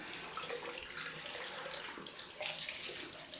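Cold tap water running for a rinse after a head shave: a steady, close hiss of flowing water from a faucet, splashing a little louder toward the end, with no talking.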